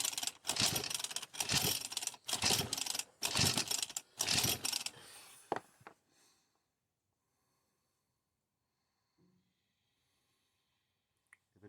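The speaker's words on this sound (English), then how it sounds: "witness my first attempt at pulling a starter cord right-handed since my shoulder surgery." Repeated pulls on an engine's recoil starter cord, the engine held in a vise: about five loud rasping bursts in a steady rhythm over several seconds, then near silence with only faint small noises.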